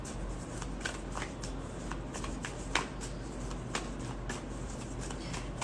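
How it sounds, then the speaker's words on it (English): A tarot deck shuffled by hand, a quiet, continuous riffle of cards with soft flicks and taps, close up and with no speech. "You saw me shuffling."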